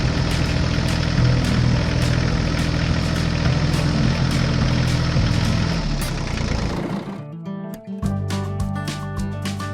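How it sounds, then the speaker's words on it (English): A tractor engine idles and runs steadily on a farm on a newly paved road, giving a loud, even mechanical drone that cuts off near the end and leaves a thinner running sound. "the tractor slowly drove over the newly paved road, checking its quality."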